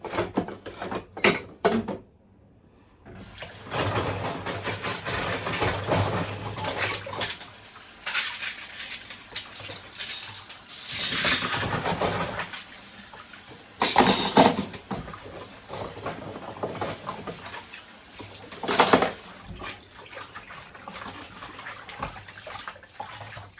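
Dishes and cutlery being washed under a running tap, with a steady flow of water broken by clinks and clatters of spoons and plates, close and moderately quiet, with pauses in between.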